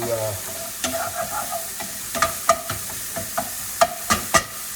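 Sausage browns in a frying pan with a constant sizzle, broken by several sharp scrapes and taps as it is stirred.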